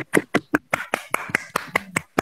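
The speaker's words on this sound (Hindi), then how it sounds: "भैया के लिए ताली बजाओ" Children clap for a young man about to sing at a Kashmiri Pandit community gathering, giving about a dozen sharp, separate hand claps in an uneven rhythm, close and fairly loud with no talking over them.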